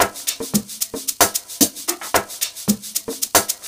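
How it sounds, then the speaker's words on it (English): Amapiano sgija shakers programmed in FL Studio Mobile play alone as a steady, fast pattern of crisp, hissy hits with regular accents, close and fairly loud. "my next instrument are my shakers guys, which sound like this."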